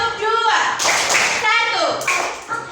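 Schoolchildren in a primary classroom clap their hands together in time, two loud groups of claps in a short rhythmic pattern, with a teacher's voice and children talking in between.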